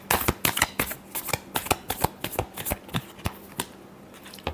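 Tarot cards are shuffled by hand in a rapid run of crisp riffling snaps and flicks, close and clear, thinning out toward the end with no talking.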